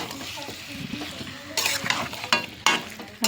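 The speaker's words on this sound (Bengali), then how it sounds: "এরপর আমি দিয়ে দেব মাংসটা দিয়ে ভালো করে নাড়াচাড়া করে কষিয়ে নেব" Chicken meat frying in a pan while being stirred, soft sizzling with scraping strokes of a spatula and a few sharper clatters of utensil on the pan.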